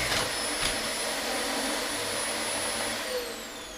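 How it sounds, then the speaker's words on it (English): A Hoover vacuum cleaner runs steadily at close range, a loud continuous whine and rushing roar that holds level before easing slightly at the end, with no talking over it. "he barges in with the Hoover while she's recording"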